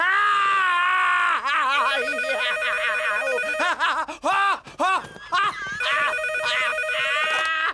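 A telephone rings loudly and repeatedly in a French animated series, with electronic trilling tones in several bursts and short gaps. Voices chuckle and murmur around the rings.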